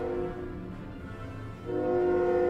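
A loud, sustained train horn in a Star Trek: New Horizons mod for the space strategy game Stellaris, sounding steadily throughout with a brief dip in the middle before swelling back up.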